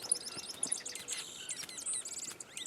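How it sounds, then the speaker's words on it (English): Two birds squabble outdoors with rapid, overlapping high chirps and twittering calls, faint and busy throughout the short stretch. "Two birds are fighting."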